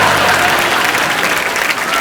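Studio audience on a comedy talk show clapping loudly and steadily, a dense continuous burst of applause heard up close for a couple of seconds.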